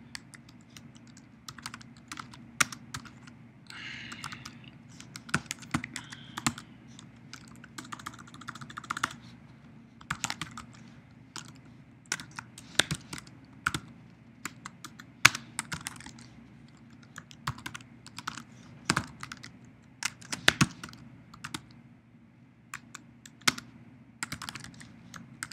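Rapid typing on a computer keyboard, heard up close and alone, with irregular bursts of key clicks and a few louder, sharper taps over a low steady hum, while someone codes a web navigation bar.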